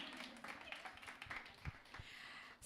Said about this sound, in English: You can clap for my team.